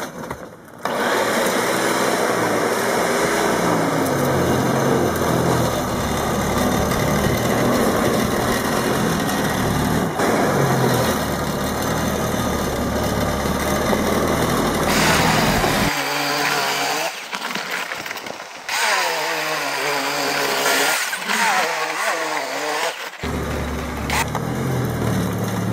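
A Toro 1800 Power Curve snowblower's small engine runs loudly and steadily, with a brief drop in pitch midway before it returns to full speed.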